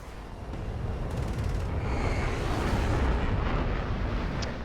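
Missiles and explosions in the air-combat video game War Thunder, heard as a continuous heavy rumbling roar of blasts that builds slightly and stays loud throughout, with no talking.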